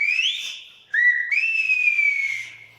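A Silbo whistled-language phrase from Tenerife meaning "come here", whistled by a person as two clear, loud, gliding tones separated by a brief break, with no talk.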